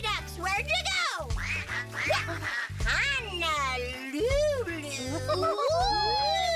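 Voices imitate the quacking of five fairy ducks, puppet characters alongside Abby Cadabby, in a rapid, loud, repeated chorus of quacks over bright background music.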